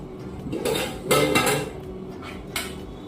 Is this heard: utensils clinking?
yes